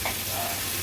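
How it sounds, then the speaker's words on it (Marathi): Pumpkin pieces with turmeric and chili sizzle briefly in a hot pan as they are stirred and sautéed for a Maharashtrian vegetable dish, a steady close-up hiss. "भाजी व्यवस्थित आपल्याला परतून घ्यायची आहे"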